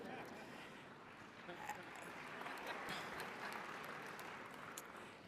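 Graduates applauding at a university undergraduate commencement ceremony, a sustained wash of clapping from a large crowd, steady and somewhat distant, lasting several seconds.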